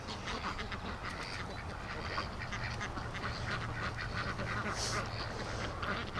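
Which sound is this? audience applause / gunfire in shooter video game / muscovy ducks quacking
muscovy ducks quacking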